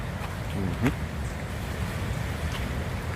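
A flooded river in Westmoreland, Jamaica rushes with a steady broad roar, heard from a nearby track with some wind buffeting and a brief voice.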